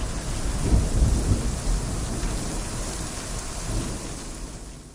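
Heavy rain falls steadily, with low thunder rumbling underneath throughout.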